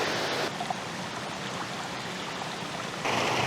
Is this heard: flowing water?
yes